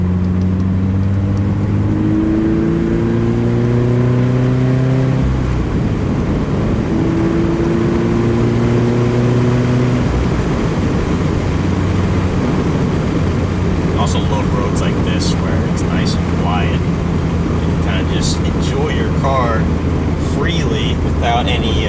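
A 2020 Toyota 86 engine climbs in pitch, drops as gears change, then climbs again, loud and close, with a voice talking over it.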